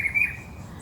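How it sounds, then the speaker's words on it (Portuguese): A sabiá thrush sings briefly near a countryside condominium in Itu, a short bright high note in the first moments before fading into quiet background hum. "Eu gravando, olha que lindo, um sabiá"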